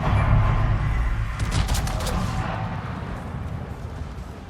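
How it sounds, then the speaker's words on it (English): Secondary gun batteries from an enemy Protector warship in World of Warships fire at the player's ship: a dense, rumbling barrage with a flurry of sharper reports in the middle, fading into a low, continuous roar. "I'm taking some secondary fire from their Protector"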